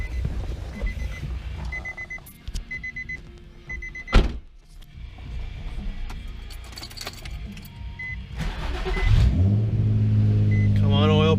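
A Nissan 350Z cranking and firing up after winter storage, with a short high chirp and clatter, then the engine catching and settling into a loud, steady idle close by, with a voice heard briefly.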